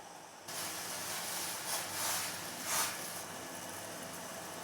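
A pot of herbal kashayam water with leaves steeps at a hard boil, producing a steady close hiss of bubbling and steam that swells briefly a few times.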